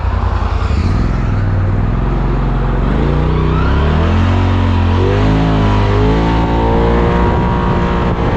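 2025 Polaris RZR Pro S off-road vehicle accelerating hard, a loud, close engine whose roar climbs steadily in pitch, continuous for several seconds.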